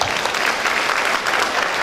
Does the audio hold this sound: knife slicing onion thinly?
no